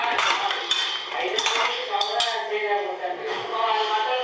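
Cooked mutton for biryani is shifted from a pressure cooker into another bowl, with metal utensils clinking and scraping against the dishes in a busy, continuous clatter close by, no one speaking.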